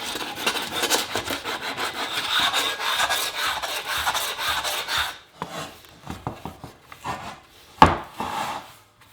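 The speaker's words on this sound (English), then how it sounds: "I'll clean this up with a sanding block." Steady rapid rasping of a sanding block rubbing back and forth over dried Gorilla Glue on a wooden machete shovel handle, then shorter intermittent strokes and one sharp knock near the end.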